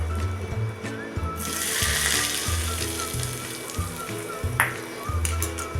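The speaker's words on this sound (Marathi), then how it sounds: "ही गरम गरम फोडणी आपण ह्या जिठमिटल्यावर ओतायची आहे थोडी थोडी करून" Hot tempering oil is poured over chopped chili jhitmitle, a spicy relish, giving a close, hissing sizzle that swells and slowly fades, with a second short splash later over a low background hum.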